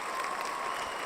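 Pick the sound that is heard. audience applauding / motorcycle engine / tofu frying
audience applauding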